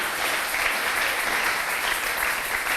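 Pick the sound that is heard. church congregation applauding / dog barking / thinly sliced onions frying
church congregation applauding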